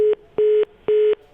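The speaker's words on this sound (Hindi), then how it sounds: "फोन लाइन कट गया उनका।" Repeating telephone tone of a line cut off during a live broadcast phone call: three evenly spaced steady beeps with short gaps, clear and alone with no talk.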